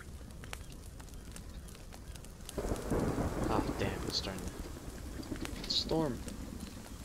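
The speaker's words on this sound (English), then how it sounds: "Storm." A thunderstorm in The Forest builds from steady rain hiss into a heavy rumbling roll of thunder, with rain pattering throughout and a bird call briefly audible near the end.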